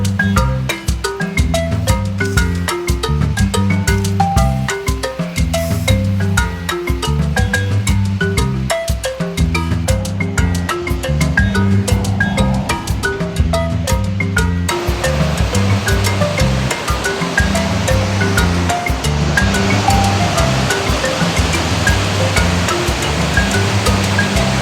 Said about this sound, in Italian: Eccole qua le cascate Nardis.